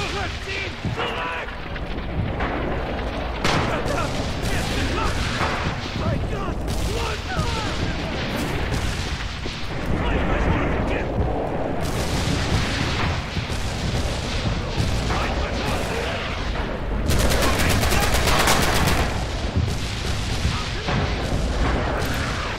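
Continuous heavy battle din in the video game Red Orchestra 2, booming artillery and rattling gunfire layered densely throughout, loud and chaotic with voices talking over it.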